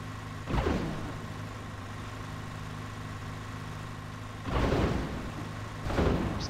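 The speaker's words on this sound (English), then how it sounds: "Some very interesting sound effects going on with these cars" Car engines in Train Sim 2015, a steady low drone with two loud engine bursts that swell and fade, one early and two near the end.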